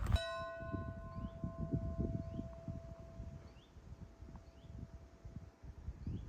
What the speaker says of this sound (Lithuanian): Ką tik varpo dūžį girdėjau.